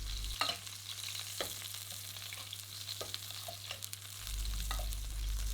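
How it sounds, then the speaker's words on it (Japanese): A roasting rack of lamb basted with hot oil alongside garlic, onion and thyme, giving a continuous soft sizzle with scattered spitting pops and light scraping, no talking. "熱い油を内側からかけることによって全体的に火が入ってきれいにロティされます"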